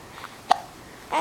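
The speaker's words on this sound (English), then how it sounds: "You got hiccups now?" A baby hiccups once, a short sharp catch in the throat, close and fairly faint, with soft babbling sounds around it.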